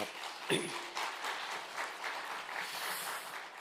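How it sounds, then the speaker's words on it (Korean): Church congregation at a dawn revival service clapping in thanks, a steady wash of applause heard from some distance, moderately quiet and even throughout. "우리 하나님께 감사의 박수 드리겠습니다."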